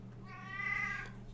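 A single drawn-out meow from a cat during an indoor miniature painting session, faint and fairly close, rising and then falling, over a low electrical hum.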